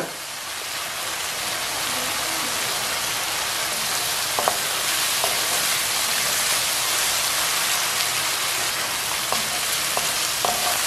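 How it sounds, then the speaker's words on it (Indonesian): Peté beans frying in oil in a pan, a steady dense crackling sizzle running throughout, with a few faint clinks of a utensil partway through and no talking. "Kita masak dulu petenya sampai setengah mateng ya."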